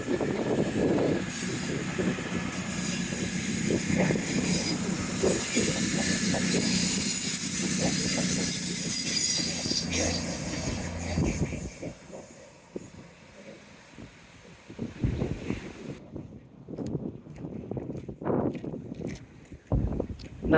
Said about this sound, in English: Very slow train, this one.